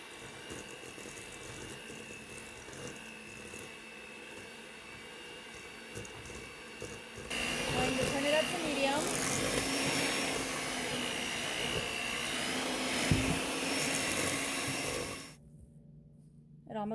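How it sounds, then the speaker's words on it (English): An electric hand mixer beats butter and sugar in a bowl, starting at a low whir, then growing louder and rougher as the beaters work the mixture, before cutting off near the end. "I'm going to take my hand beater and I'm going to start out on number 1 with the beaters all the way in the bottom of the bowl."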